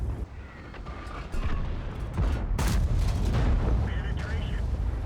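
An E100 heavy tank's cannon fires gold shells in the World of Tanks video game. Two heavy booms sound over a rumbling battle background, with a voice talking during the clip.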